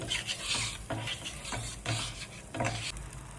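Butter melts and sizzles on a hot pan for spicy masala bread toast. Several rhythmic spreading strokes scrape across the surface over a continuous frying hiss, heard close up with no voices.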